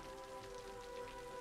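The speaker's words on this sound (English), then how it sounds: "This rain is really fucking irritating to" Steady rain patters in the city-building game Cities Skylines, a constant close hiss of drops with a faint tonal hum underneath, brief and even throughout.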